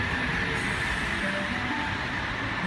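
A Sydney VSET train nears platform 1 at Woy Woy station, its low rumble and steady rail noise filling the platform without a break.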